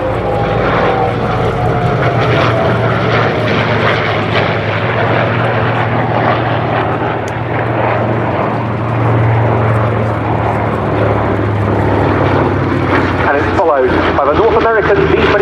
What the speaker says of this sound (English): And another very attractive silver aircraft, airborne underneath, the B-25, that and the DC-6.